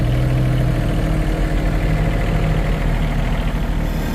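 A small farm tractor's engine runs steadily nearby while it moves a concrete load onto a little trailer, a continuous low idling rumble with a strong steady hum and no voices.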